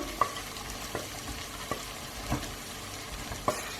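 Eggplant (baingan) frying in a pan for an Indian masala curry, a continuous soft sizzle with several sharp spoon taps against the pan at irregular intervals.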